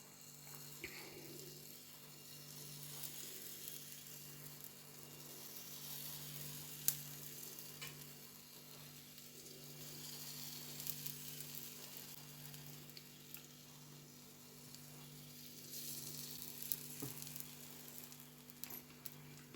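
Spiral of pancake batter sizzling in a hot frying pan for a budget Valentine's treat, a steady soft crackling hiss that runs throughout with small pops, no talking.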